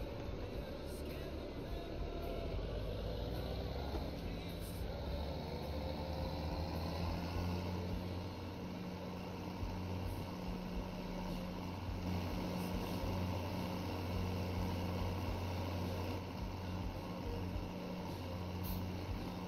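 Engine of a heavy tractor driving in Farming Simulator 17, a steady, continuous low mechanical drone with a faint whine above it, even in loudness across the whole stretch.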